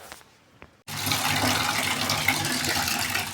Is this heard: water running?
yes